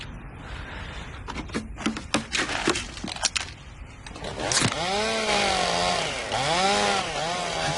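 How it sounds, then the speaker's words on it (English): A chainsaw in an attic snarls and revs loudly, its pitch swooping up and down in repeated surges after a stretch of scattered clunks and knocks. "I thought I told him to bag that chainsaw."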